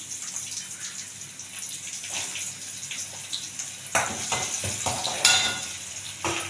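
Fenugreek, red chili and dried turkey berries dry roasting in a pan, with a soft continuous sizzle and scraping stir strokes, plus a few sharper clatters toward the end.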